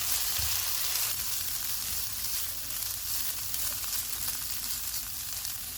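Shredded boiled chicken seasoned with garlic powder and salt sizzles steadily in a hot pan, a continuous loud frying hiss with occasional stirring scrapes and no talking.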